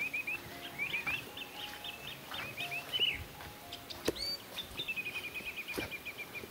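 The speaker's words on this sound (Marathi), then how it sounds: "सकाळ सकाळी उठल्यावरती पक्ष्यांचे वगैरेचे आवाज कसे येतात, निसर्गाचा आवाज वगैरे कसा असतो" Birds call around a Konkan village house on a monsoon morning, a string of thin chirps and whistled notes, some near and some farther off, over a steady hiss of ambient noise.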